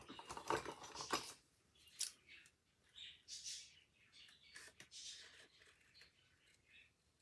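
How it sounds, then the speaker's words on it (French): Scissors trim paper for a handmade Harry Potter style book, giving a few quiet, crisp snips at close range with short pauses between cuts and no talk. "Je vais recouper au ciseau."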